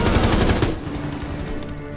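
Rapid gunfire from the tactical shooter Rainbow Six Siege rattles in a dense automatic burst over the first stretch, then gives way to quieter game ambience.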